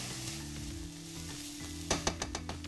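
Onions and spices cooking down in a pan, a steady close sizzle with a low hum underneath and a few clinking stirs near the end, no talking.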